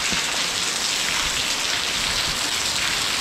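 Heavy rain pours steadily in a Pakistani village on a wedding day, a dense, close, unbroken hiss of drops with no voices.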